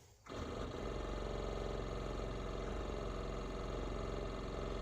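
An electric brake vacuum pump on a hot rod's power brake booster kicks on after a brief quiet moment, then runs as a steady, loud, droning mechanical whir with no break.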